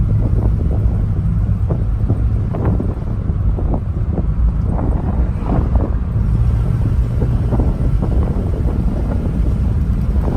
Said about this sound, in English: car gets up and goes